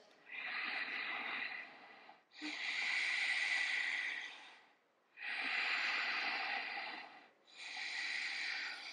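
Slow, deep yoga breaths are drawn in and out in four long airy rushes, each a few seconds long with short pauses between them, close to the listener and with no talk.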